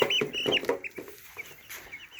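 Ten-day-old broiler chickens clucking and chirping up close while being weighed, a quick run of short calls that tapers into quieter peeps.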